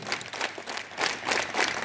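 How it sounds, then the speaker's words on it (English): Students at a school morning assembly clapping their hands together in uneven bursts, moderately loud and fairly close, with no talk over it. "clap together"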